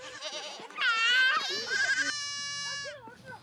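Young goats bleat in a pen on a Mongolian nomad steppe, several wavering calls overlapping and following one another at close range, with faint shuffling and background voices of children herding them.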